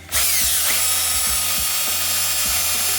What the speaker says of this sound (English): Step 3, drill.